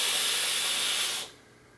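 A loud, close, steady hiss of vapor drawn through a Mutation X V4S RDA running at 82 watts with the top airflow fully open, held for about a second before cutting off abruptly.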